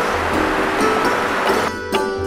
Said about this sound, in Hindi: जगह जगह उबलते चश्मे और बुलंदी से गिरती साफ शफाफ आबशारें ना सिर्फ जन्नत निगाह बल्कि फिरदौस गोश भी हैं